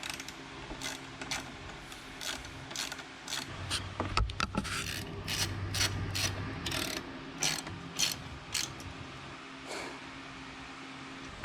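Ratchet and torque wrench clicking in repeated bursts while the fork pinch clamps of a 2021 Harley-Davidson Road Glide are tightened after installing a Fox cartridge kit, close and clear, with a low mechanical hum beneath.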